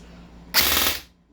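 Airsoft DMR rifle fired in rapid-fire mode: one brief, close, rattling burst lasting about half a second, loud against a quiet room.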